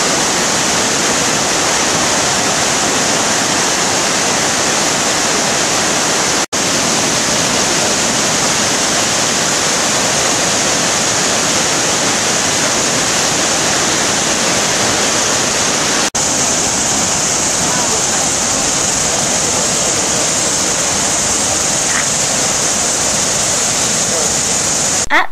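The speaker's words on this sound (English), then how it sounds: "impressive waterfall we have ever seen. The colour of the waterfall was unbelievable. The power of it was just incredible." A powerful New Zealand waterfall roars in a constant, dense, loud wash of falling water that never lets up, heard close and alone.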